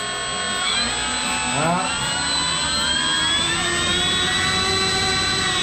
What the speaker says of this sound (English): Hold on to the plane and give it a little juice.